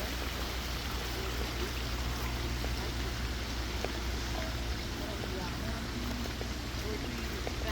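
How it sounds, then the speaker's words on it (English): A small waterfall flowing steadily, a broad continuous rush of water with a constant low rumble underneath. "So a little bit of a waterfalls."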